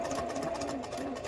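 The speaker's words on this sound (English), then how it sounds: "I need to keep sewing onto this little scrap piece" A sewing machine stitches quilt pieces for a Christmas baubles quilt, running in a fast, steady, continuous buzzing whir at moderate volume.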